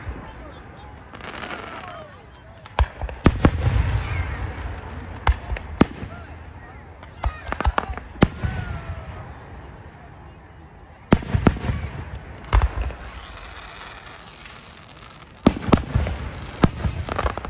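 Fourth of July fireworks set off all around a neighborhood in Delaware, Ohio, with repeated sharp bangs and crackling bursts at irregular intervals, some near and loud, over steady background rumble and occasional voices.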